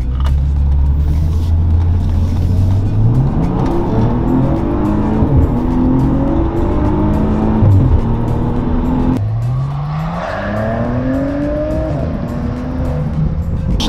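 A Maserati Ghibli engine accelerating hard, its pitch climbing in repeated sweeps with distinct breaks at each gear change, loud and close throughout with no talk.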